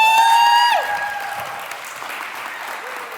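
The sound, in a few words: audience applause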